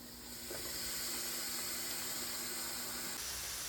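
A steak cooks in a closed George Foreman grill, giving off a steady, faint sizzling hiss with a constant background hum and no speech.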